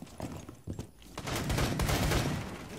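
Video game gunfire crackles in rapid, overlapping bursts as players shoot at a wall, close and fairly loud, building into near-continuous firing.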